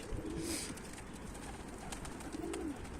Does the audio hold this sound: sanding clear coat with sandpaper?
no